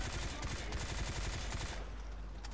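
Rapid gunfire in the zombie shooter Left 4 Dead 2, a loud burst of repeated shots in a fast rhythm that cuts off abruptly near the end.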